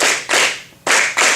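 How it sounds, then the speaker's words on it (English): Several sharp hand claps in a short syncopated pattern, loud and close with no voices: two quick claps, a pause, then two more. "Could we just clap the first bar just one by one?"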